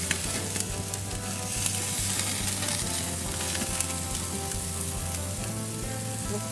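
Fatty steak sizzles and crackles steadily on a grill as flames flare up, a constant close hiss with scattered pops and no voices.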